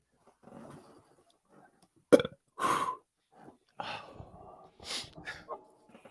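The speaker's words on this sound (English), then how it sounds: "Just go ahead, burp." Several short guttural bursts, one loud and abrupt followed by a longer rasping one, then softer throaty sounds with brief voice bits between, close up in a quiet room, consistent with a person burping.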